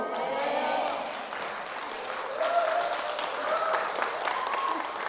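Sustained applause from a large audience, steady and dense clapping that swells slightly midway and continues throughout.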